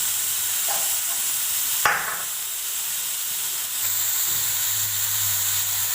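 Chopped garlic cloves go into a hot pan for Maggi noodles, giving a steady loud hiss and sizzle with a brief clink and a surge of frying partway through, no voices.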